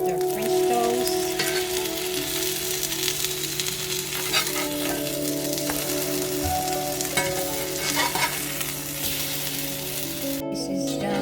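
French toast sizzles and fries steadily in a pan, a dense continuous crackle that stays close and loud throughout with no talking.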